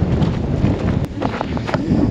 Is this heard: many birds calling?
no